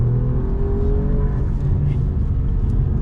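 An Alfa Romeo Quadrifoglio drives along, a loud close engine drone with rising tones as it pulls, steady road rumble underneath.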